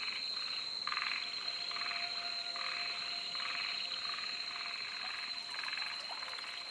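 Small yellow frogs call at night in large groups beside a river in Okinawa, rapid pulsed croaks repeating in overlapping bursts over a steady high insect-like drone, fairly close and continuous.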